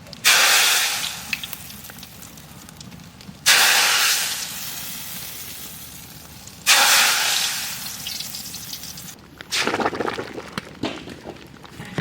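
Dried red chillies, bay leaves and whole cumin are tipped into hot oil to temper dal during large-scale village cooking, and the oil hisses sharply in four loud bursts, each loud at first and then easing into a softer sizzle.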